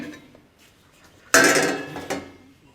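A sealed pot of chicken biryani is opened after dum cooking, with a sudden loud metallic clatter of the lid being lifted, then a second, shorter clink a moment later. Before that there is near silence.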